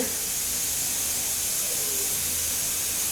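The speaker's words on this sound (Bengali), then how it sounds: "তিন চার মিনিটের মধ্যে সিটি প্রায় এসে যাচ্ছে" Steam hisses steadily from a pressure cooker cooking Kashmiri pulao, a continuous, fairly loud rushing hiss that holds unbroken for the whole stretch, with no clear whistle tone.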